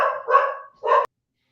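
Two sharp, loud dog barks close to the microphone, the first drawn out and the second shorter, followed by silence.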